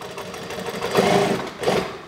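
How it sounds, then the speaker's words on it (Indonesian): Sewing machine stitching a jeans waistband, a steady close mechanical whir with a couple of louder surges, no talk over it. "ini saya jahit langsung"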